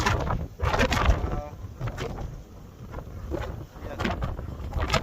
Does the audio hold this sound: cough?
no